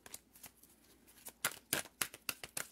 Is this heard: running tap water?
no